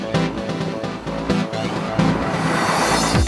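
A 2012 Volkswagen Touareg, a large SUV weighing about 2.2 tons, accelerates hard off the line, its engine note rising close and loud with a quick gear change partway through.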